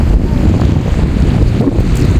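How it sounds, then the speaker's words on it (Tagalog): Wind buffets the microphone outdoors in Mabini, Bohol, a continuous loud low roar with gusty swells, heard alone. "Kay mahangin dito sa labas."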